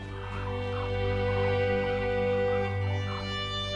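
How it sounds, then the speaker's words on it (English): Cranes call at an evening roost beside the Mekong in Cambodia, a steady chorus of bird cries layered over a constant low droning hum, moderately loud throughout. "As evening falls, the cranes head to their roosting grounds in nearby trees."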